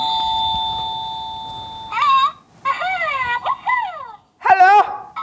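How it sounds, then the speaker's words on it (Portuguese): A toy magic lamp gives a two-tone doorbell chime, followed by whimpering, yipping electronic dog-like sounds from the toy in short close bursts. "Agora toque a campainha pressionando."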